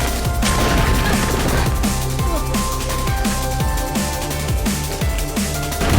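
Violent gunfire exchange in an action film scene with special police, a dense, loud barrage of shots over a constant musical score and crashing impacts, continuing without pause.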